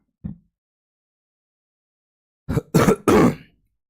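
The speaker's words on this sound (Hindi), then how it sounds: "एक तो खांसी ऊपर से माइक पे, और ज़्यादा खतरनाक लगता है" A brief low grunt, a long silence, then three loud, close coughs in a rapid cluster.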